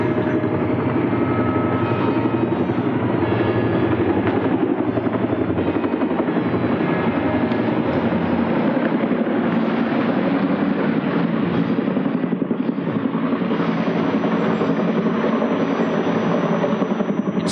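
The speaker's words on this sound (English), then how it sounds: "the thumping of the chopper" Iroquois military helicopters fly over at a Victory in the Pacific anniversary event in Brisbane, their rotors thumping loudly and steadily for the whole stretch, a dense engine roar with no talk over it.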